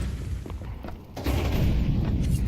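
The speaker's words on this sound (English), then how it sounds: "Oh, nice flashbang." A flashbang grenade bursts in a Counter-Strike match, a dull boom that swells into a sustained loud roar and ringing with no speech.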